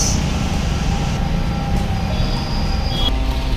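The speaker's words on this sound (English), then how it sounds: "New city buses." A large city bus rumbles past in heavy rain in Panjim, Goa, with steady low-frequency engine and road noise, a faint high whine fading in and out, continuous throughout.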